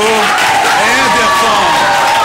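Applause from a class or small audience after a student presentation, a steady clapping wash with voices and chatter mixed into it.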